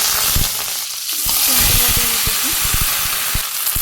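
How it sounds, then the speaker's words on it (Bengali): Green chillies and cumin seeds dropped into hot oil in a home Bangladeshi kitchen, crackling and sizzling loudly and close, with sharp popping bursts over a constant hiss. "একটু জিরে ফোড়ন বটিতে কাঁচা মরিচ দিলাম তেলে দিয়ে দিলাম"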